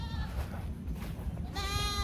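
Goats bleat on a farm during chores, a few drawn-out harmonic cries, one near and loud toward the end, over steady background noise.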